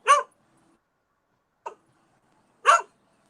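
A dog barks somewhere in the background of an online group call, giving three short, sharp yips spaced over a few seconds, the middle one softer, with silence in between.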